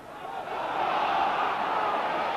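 A rugby league crowd at a Huddersfield versus Keighley match in 1994 roars for a knock-on, a loud, dense swell of voices that rises quickly and holds steady throughout.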